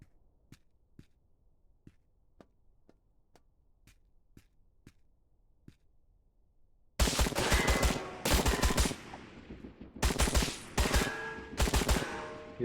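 Sparse faint single shots tick at intervals, then loud sustained bursts of close automatic gunfire break out in a railroad simulation video game, firing in several long volleys with brief gaps.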